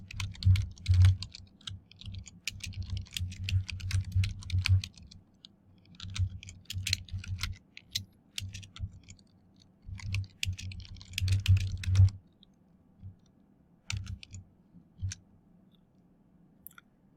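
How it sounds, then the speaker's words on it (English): Search query typed on a computer keyboard, rapid bursts of crisp key clicks in uneven runs separated by short pauses, close and fairly quiet, with no talking. "I will start a new search, and then let's type the following."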